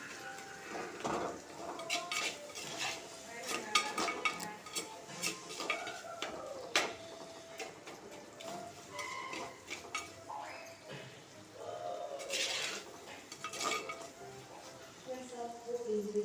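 Okra tamarind curry being stirred in a pot in a village-style kitchen, with clinking and scraping of a ladle against the metal pot and rattling of a lid, under intermittent quiet talk.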